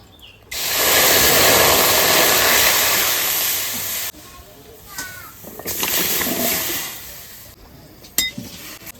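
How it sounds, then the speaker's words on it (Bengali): Water pours from a vessel into a kadai to boil jackfruit, a loud rushing splash for a few seconds, then softer clinks and gurgles with a final clatter as the pot settles. "এবার ইঁচড়টা সিদ্ধ করার জন্য আমি কড়াইতে জল দিয়ে দেবো"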